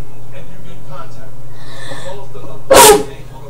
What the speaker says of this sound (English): Sorry, I just sneezed.